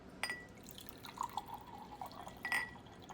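Water from a Brita filter drips in small, irregular drops into a cup, faint and close, with a few brighter splashes spread over a few seconds.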